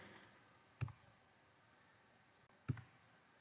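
A computer mouse gives two sharp, isolated clicks, well spaced and fairly faint, against a quiet room background while someone heads into Gmail.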